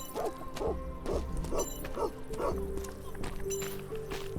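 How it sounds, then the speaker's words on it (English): A dog barks in the video game 1428: Shadows over Silesia, about five evenly spaced barks at moderate distance over a low, steady game soundtrack. "Dog. Not gonna worry about you for now."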